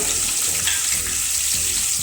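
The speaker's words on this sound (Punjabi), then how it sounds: "ਪਨੀਰ ਨੂੰ ਵੀ ਫਰਾਈ ਕਰ ਲਵਾਂਗੇ" Cubes of paneer fry in hot oil tempered with cumin seeds, giving a steady, close sizzle with faint stirring scrapes and no voices.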